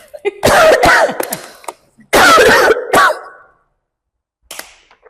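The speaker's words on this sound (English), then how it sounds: "oh no, I feel like a coughing fit's coming." A loud, close coughing fit: two harsh bursts of repeated coughs and throat clearing, then a pause and one fainter cough.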